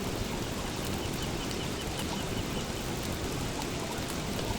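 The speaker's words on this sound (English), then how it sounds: "It's still raining." Steady rain in the video game Don't Starve Together, a dense unbroken wash of falling drops at even loudness throughout, with no voices over it.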